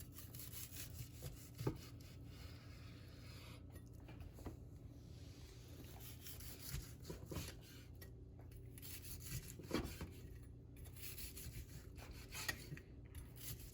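A knife saws through the crusty skin of smoked, broiled pork belly, giving soft, gritty rasping strokes with a few sharper crackles. The sound is fairly faint and close, with no talking.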